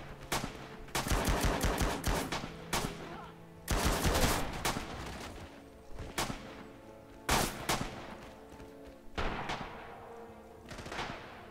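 Bursts of machine gun fire in the video game Rising Storm Singapore, sharp rattling volleys repeating in short strings with brief pauses between, loud and close.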